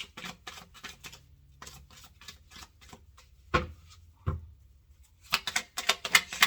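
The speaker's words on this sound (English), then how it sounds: "Shuffle it a few times." A deck of tarot cards is shuffled in quick papery bursts of rapid clicking, with a pause midway, a couple of sharp taps, then a final louder flurry, close and without talk.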